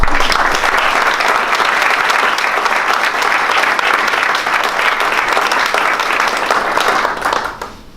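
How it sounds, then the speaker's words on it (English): Full, sustained applause from the audience at a retirement celebration, loud and even for several seconds before quickly fading out at the end. "I think that deserves a round of applause."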